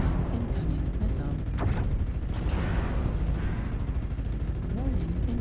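LRM missiles hit a mech in the MechWarrior Online video game. A dense, continuous barrage of rumbling impacts and mechanical noise fills the whole stretch, loud and close.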